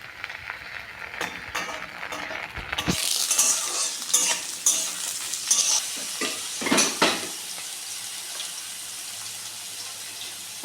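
Capsicum is tossed with already-fried green beans in a hot kadai for fried rice, giving a steady oily sizzle with repeated scraping and clattering stir strokes up close, with no talking.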